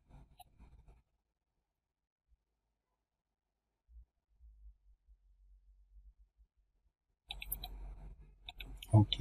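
Computer mouse clicks during 3D modelling of a duplex wall with floor slabs and a staircase: a few soft, isolated clicks at the start, a long quiet stretch with faint taps, then a denser, louder burst of clicking and handling at the end.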